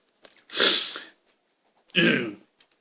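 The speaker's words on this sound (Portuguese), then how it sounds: "parece que resolveu me dar esse acesso de tosse" A person coughs twice, harsh and breathy, close and moderately loud, separated by a short pause of quiet.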